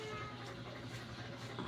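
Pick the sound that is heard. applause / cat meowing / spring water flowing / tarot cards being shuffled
cat meowing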